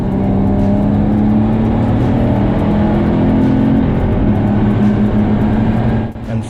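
BMW M135i hatchback driven hard around a race track on a track day, its engine droning loud and steady close to the microphone with rising and falling revs and road roar, easing slightly near the end.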